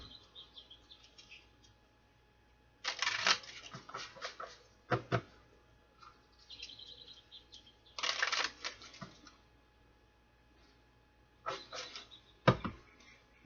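A deck of cards shuffled in several separate quick riffling bursts, close and crisp, with quiet pauses between them over a faint steady hum.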